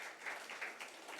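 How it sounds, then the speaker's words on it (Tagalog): A church congregation at Impact Church claps together, a soft, steady patter of many hands that runs briefly without a break and sounds somewhat distant. "palakpak natin ang ating mga kamay"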